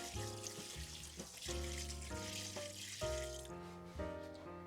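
99% isopropyl alcohol pours into a tub, giving a quiet liquid gurgle with shifting tones as the vessel fills, a continuous trickle in several surges with no talking.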